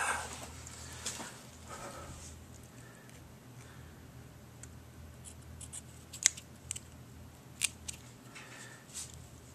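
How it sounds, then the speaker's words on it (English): Scissors trimming the wick of a Vornado humidifier: a few quiet, sharp snips scattered over a faint background hiss, spaced apart with short pauses between cuts, no talking. "Get the scissors."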